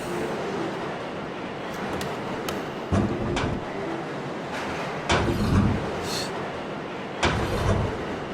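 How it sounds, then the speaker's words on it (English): A video game train in Lost in Vivo rumbles and clanks as it slows to a stop, steady loud rolling noise broken by several heavy thumps and metallic bursts, with no talk. "Now, train's about to come to a stop."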